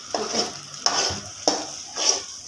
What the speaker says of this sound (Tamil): நல்லா முட்டையை நல்லா கிண்டணும்